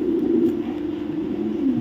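A racing pigeon hatched in 2022, raced eight to ten times with a BRPL club, gives a low, continuous throaty coo, close and clear, with the murmur rising and falling slightly across its short span.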